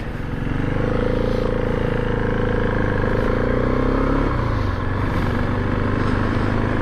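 A continuous, deep Husqvarna 701 motorcycle exhaust rumble, close and loud, holding steady with a slight pitch shift midway as the engine changes speed.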